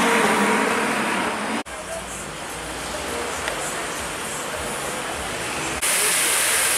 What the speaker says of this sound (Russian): Прикольный фонтан.